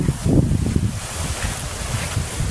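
Wind gusting through a stand of bamboo in a rural Philippine setting, a steady, fairly loud rush with low buffeting rumble against the microphone and no voices.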